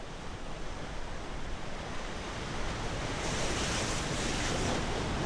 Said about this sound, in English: deeper into the water where the waves are crashing